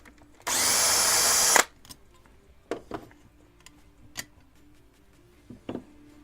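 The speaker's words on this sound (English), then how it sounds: "I'm gonna go ahead and open up this gearbox and get this bevel out." A power tool opens an airsoft gun gearbox: one loud whirring burst of about a second, close, then scattered small clicks and taps of parts being handled.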